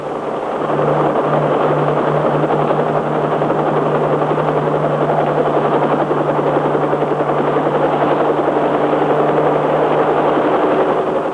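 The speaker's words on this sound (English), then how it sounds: "This tiny control stick can fly the pilotless copter in any direction." A steady, droning rotor and engine whir of a small radio-controlled pilotless helicopter in flight, a 1953 Kaman KAC drone, continuous and fairly loud throughout, with a constant low hum underneath.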